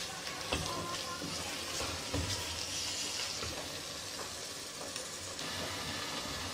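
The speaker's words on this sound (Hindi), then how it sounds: "अच्छे तरीके से हम इसको भून देंगे।" Saag (mustard greens) frying in a pan for Pakistani sarson ka saag, giving a steady, moderately faint sizzle and hiss with occasional small clicks from stirring.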